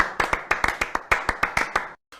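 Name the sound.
applause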